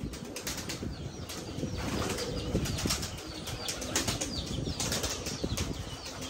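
About 80 pigeons flap their wings in a continuous flurry, with soft scuffling and cooing mixed in, close by and steady throughout.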